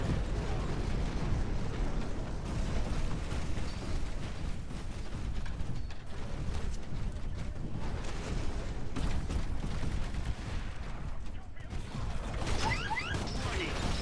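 Explosions and heavy impacts from a Titan attack in the Titanfall video game keep up a dense, rumbling barrage of blasts and mechanical clatter with no letup.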